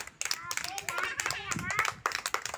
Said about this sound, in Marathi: नाही बघा कशी टाळ्या वाजवते